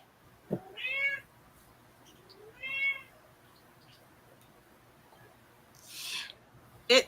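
A cat meows twice, fairly close with a pause between, followed later by a soft breathy rustle and a brief scrape.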